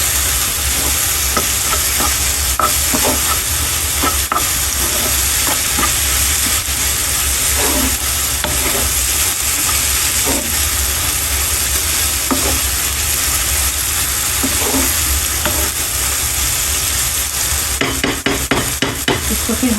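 Okra frying with dry mango powder and green chillies in a pan, a continuous close sizzle overlaid with repeated scraping stirs and clinks, loud throughout with a burst of clatter near the end and no talk.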